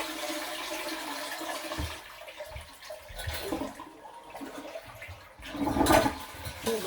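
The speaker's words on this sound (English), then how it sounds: "Okay, now let's flush the toilet." A toilet being flushed during a bidet sprayer installation, the tank's water rushing and gurgling near the mic and swelling near the end as it drains.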